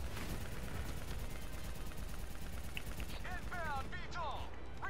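Gunfire in Call of Duty: Black Ops III crackles as a dense, continuous rattle of shots under a battle din, fairly quiet and steady, with speech and a few radio-like vocal bursts near the end.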